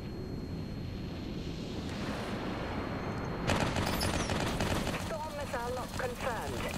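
Storm missiles launching in the space combat video game Dreadnought: a dense, crackling volley of rapid bursts and booms builds midway, layered over a rushing roar with whistling streaks, while voices talk over the top.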